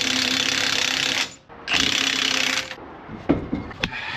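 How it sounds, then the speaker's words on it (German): Pumping something up during a vehicle repair, heard as two long, loud, rushing strokes, each about a second, followed by a few sharp mechanical clicks and knocks, with no talking. "So, dann pumpen wir mal hoch."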